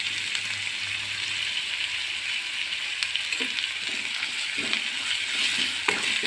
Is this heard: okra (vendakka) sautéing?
yes